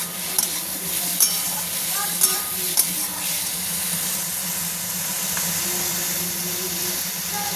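Boiled potatoes stir-fried with turmeric in a hot pan, a dense, steady sizzle with soft stirring scrapes and a few brief metallic ticks, close and constant throughout.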